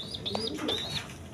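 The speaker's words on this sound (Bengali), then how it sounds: "পেয়ার গ্রিজিয়াল রেশাল কবুতর আছে" Pigeons from a grizzle pair at a breeder's loft making short chirps and a soft coo, quiet and close, with light rustling.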